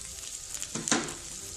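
Chicken cooking in a pan as flour is added and stirred in, a steady close sizzle with a brief louder burst of frying and scraping partway through.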